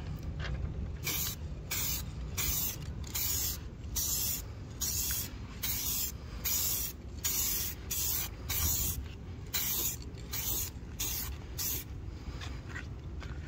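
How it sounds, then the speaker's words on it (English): A rattle can of touch-up spray paint is applied to flaking paint on a Lexus RX350 in steady, rhythmic hissing passes, each lasting about half a second. The passes repeat close and loud throughout, and no one speaks. "And here we go, we're gonna apply smooth, even, thin coats of paint."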